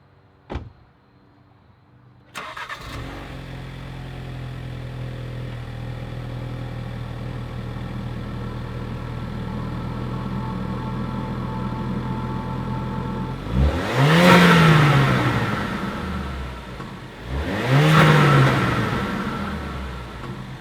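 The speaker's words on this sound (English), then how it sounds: "let's go start her up, see how she sounds" A Ford Focus RS fitted with new Denso ITV22 spark plugs, one step colder, cranks and fires, settles into a steady close idle, then gives two strong revs a few seconds apart before dropping back.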